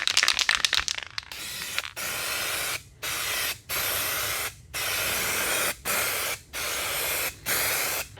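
A U-pol 2K aerosol spray can applying car paint: a rapid run of short hissing bursts, then long steady sprays of about a second each separated by brief pauses, loud and close with no voices.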